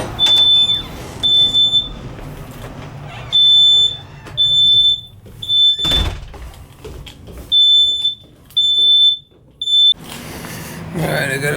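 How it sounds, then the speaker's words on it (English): A smoke alarm emits loud, shrill, high-pitched beeps in repeated bursts during a gas furnace replacement, with clattering and movement noises in between. "Oh, the smoke alarm's right there."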